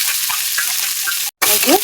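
Chopped ginger goes into hot oil with onion and garlic, giving a close, steady sizzle and light stirring. A brief dropout near the end cuts it before the frying resumes.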